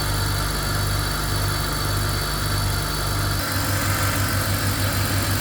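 A cold BMW 3 Series E46 engine turns over and settles into a steady, rumbling idle with a regular low pulse, close by and without speech.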